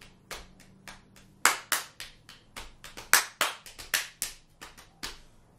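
Hand claps used as percussion in a drumming lesson: a sharp, close series of single claps in an irregular rhythm, some soft and some loud, with short silences between them.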